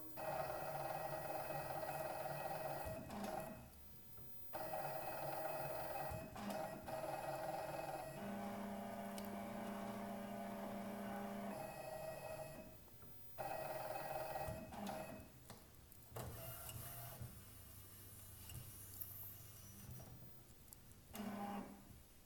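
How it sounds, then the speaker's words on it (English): A wide-format printer's carriage motor whirs and hums steadily as it moves to unlock and then lock, with shifting tones, brief pauses and a few beeps, continuous and close. "right now, it's moving down to unlock the carriage."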